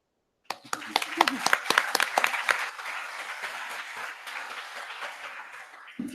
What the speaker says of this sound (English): I think we all deserved a warm applause